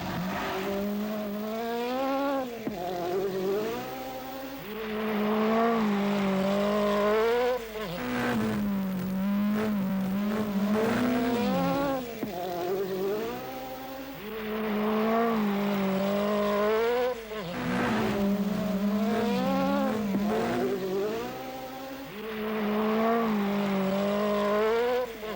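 Peugeot 205 Turbo 16 race car climbing Pikes Peak at the limit, its engine note rising and falling in repeated high-revving sweeps through gear changes, steady and close for the full stretch.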